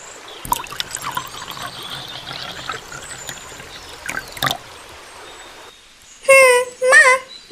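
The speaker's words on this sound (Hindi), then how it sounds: "माँ, मैं तो पानी डाल दिया।" Water pours and trickles onto a freshly planted seed in soil, a soft continuous stream close by for several seconds, followed by two short bursts of a voice.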